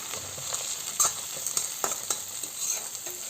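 Tomatoes frying in oil for Andhra-style rava upma, a steady close sizzle with faint stirring scrapes and a few soft knocks, no voices.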